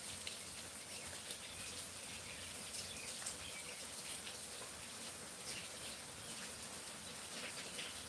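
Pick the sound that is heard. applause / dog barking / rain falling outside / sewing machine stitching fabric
rain falling outside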